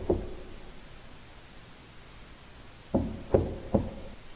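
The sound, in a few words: door sound effect, knocking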